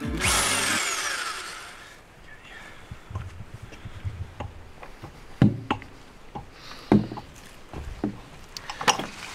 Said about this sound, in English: I'm just going to drill a hole here, here, here and here